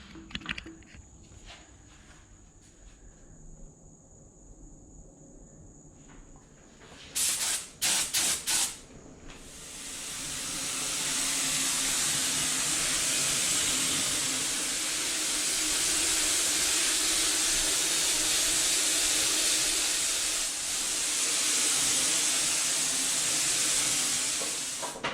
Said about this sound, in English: I'm actually going to spray it with this gun. I'm going to try it about 50 psi